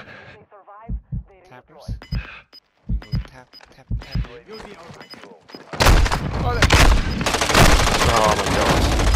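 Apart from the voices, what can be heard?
gunfire in video game Warzone 2.0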